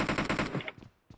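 Gunfire in the PUBG video game comes as a quick rattling automatic burst of several close, loud shots that fades into a short tail, with one more faint report at the end.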